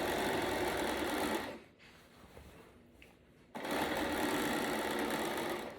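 Domestic sewing machine stitching close to a fabric edge on a dress, a loud steady whirring buzz that stops for about two seconds of quiet handling, then resumes just as steadily.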